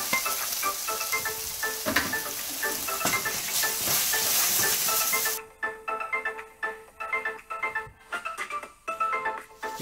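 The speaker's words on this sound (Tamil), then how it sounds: "வெங்காயத்தையும் போட்டுடலாம். இது ஒரு 30-40 செகண்ட்ஸ் நல்லா வதக்கி விட்டுருங்க." Onions sautéing in a pan for egg biryani make a loud, continuous hissing sizzle that drops off abruptly midway, leaving quieter bursts of crackle and repeated spoon scrapes.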